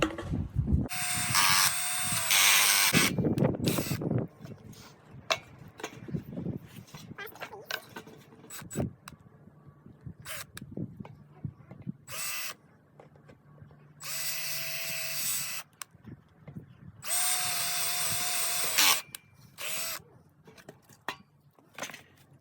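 A power drill boring breathing holes through wooden boards for a squirrel cage, in several loud whirring bursts separated by quieter gaps with clicks and handling noise.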